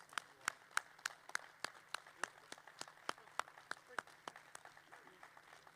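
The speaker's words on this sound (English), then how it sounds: "we're going to give them a huge round of applause as they depart this stage" Sparse, distinct claps from a small audience at a K9s For Warriors graduation ceremony in El Paso, Texas, each sharp clap standing out over faint background voices, fairly quiet and evenly spread.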